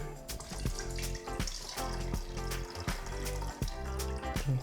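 Homemade fruit wine poured out on a small farm, a steady liquid splash and trickle running close by with faint knocks, with no talking.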